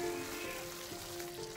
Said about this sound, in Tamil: தக்காளி நல்லா கொதிச்சிருச்சு.